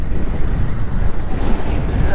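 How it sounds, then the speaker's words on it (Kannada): Strong wind gusts roar across an open roadside at night, a steady broadband rush that sounds close and buffets the microphone without letup. "ಏನ್ರಿ ಇದು ಗಾಳಿ?"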